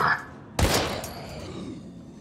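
A single loud gunshot in the survival horror video game Daymare 1998, a sharp near blast with a decaying tail, preceded by a brief muffled noise.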